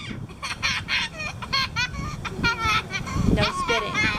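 Ducks squawking and quacking repeatedly at close range while children chatter nearby during an outdoor bike outing, their harsh calls coming in short bursts under and between the voices.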